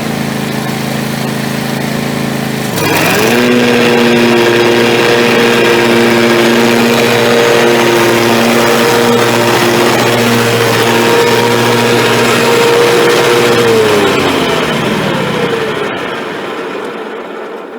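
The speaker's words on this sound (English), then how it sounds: "not have the constant noise of the tractor" A John Deere E140 riding lawn tractor engine runs steadily at close range while mowing grass, droning at an even pitch for a long stretch before winding down and cutting off.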